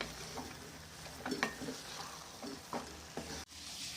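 Tomato rice being stirred with ghee in a pan gives a soft steady sizzle, with a few gentle scraping strokes of the spoon against the pan and no talking.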